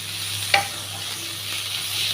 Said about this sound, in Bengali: এবার মোচাটাকে ভালো করে কষিয়ে নেব, মশলা যাতে ভালো করে ওটাতে মিশে